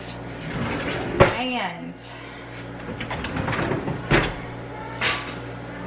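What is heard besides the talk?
kitchen drawers being opened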